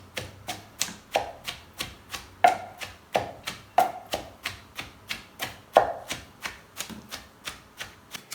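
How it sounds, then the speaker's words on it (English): Okra being pounded by hand, a steady series of dull, thudding strikes about two per second, close and fairly quiet, with no talking. "I'll be pounding my okra to get consistency"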